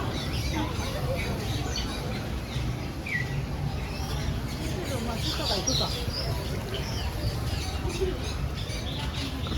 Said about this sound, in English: We're in the bird cage.